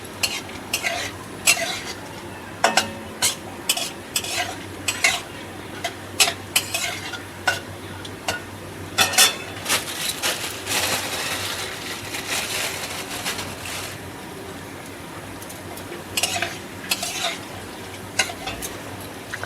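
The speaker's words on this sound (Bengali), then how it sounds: "কাজুগুলোকে হালকা ভেজে নেবো" Cashews frying in oil in a pan for basanti pulao, a steady sizzle broken by repeated sharp scrapes and clinks of a spatula stirring against the metal, close and clear throughout.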